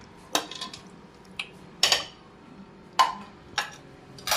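Pieces of mutton go into a cooking pot for dum biryani, making several separate clanks and clatters of metal and utensils with quiet gaps between them.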